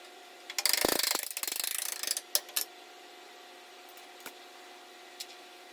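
A socket ratchet clicks in a fast burst of pawl ratcheting on a 3/4 bolt of a SCAG Turf Tiger 2 zero-turn mower's wheel fork, followed by a few scattered metallic clicks and taps in an otherwise quiet space.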